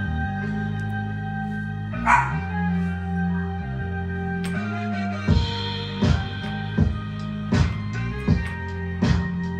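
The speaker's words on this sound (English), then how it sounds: "Y'all excuse my dog." A dog barks repeatedly, a string of short sharp yaps over a steady low hum, fairly close by.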